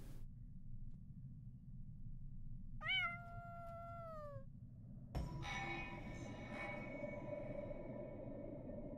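A cat in the video game Impostor Factory lets out a single drawn-out meow against a quiet hum, followed by a sudden clatter of game sounds.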